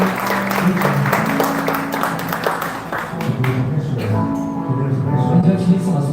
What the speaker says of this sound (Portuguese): Uma salva de palmas para esse casal.